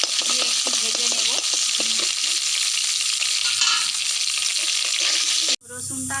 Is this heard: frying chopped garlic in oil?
yes